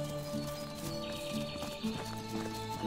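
Horse hooves clip-clopping along with a whinnying neigh in the medieval village game Medieval Dynasty, steady footfalls over layered game ambience and music tones.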